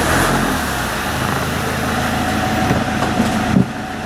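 Pickup truck engine idling and rolling out of a carport, a steady mid-range motor drone throughout with a slight rise in revs near the end, close and fairly loud.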